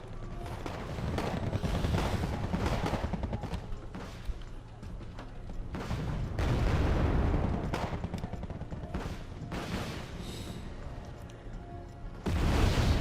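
Rocket artillery barrage in Wargame AirLand Battle: dense, sustained rumbling salvos of launches and explosions rolling on for the whole stretch, loud and continuous, with a heavier burst near the end and no talk over it.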